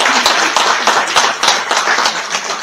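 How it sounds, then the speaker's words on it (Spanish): An audience at a conference on opera welcomes the speaker with loud, close applause, a thick, steady stream of many hands clapping without any talk. "lo recibimos como es habitual con nuestro aplauso"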